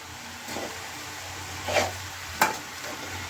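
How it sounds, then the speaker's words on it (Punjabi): Potato bhurji is stirred in a frying pan, giving a steady close sizzle with a few scraping strokes of a spatula against the pan. "ਹੁਣ ਅਸੀਂ ਇਹਨੂੰ ਸਾਰੀ ਨੂੰ ਹਿਲਾ ਲਵਾਂਗੇ ਇੱਕ ਵਾਰ ਤਾਂ ਜੋ ਸਾਡੀ ਭੁਰਜੀ ਸਹੀ ਤਰੀਕੇ ਬਣ ਸਕੇ"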